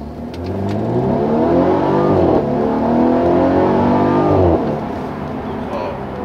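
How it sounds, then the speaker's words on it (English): A 2018 Mercedes E-Class Coupe's 2-liter four-cylinder engine revs hard and loud, rising in pitch through a few gear changes, with a brief dip midway before settling back down. "let's do a quick acceleration."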